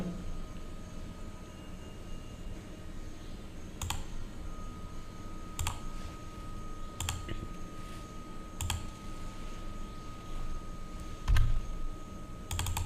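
Computer mouse clicks while working in NX CAM software: about six sharp, isolated taps spaced a second or two apart over a steady low hum and background hiss.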